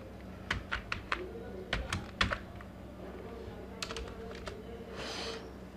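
Computer keyboard keys tapped while typing text in Photoshop, a short burst of crisp close clicks followed by sparser taps and a soft rustle.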